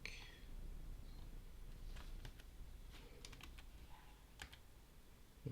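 Someone types on a computer keyboard, with scattered light clicks and taps in irregular bursts under a faint background hiss and no talk.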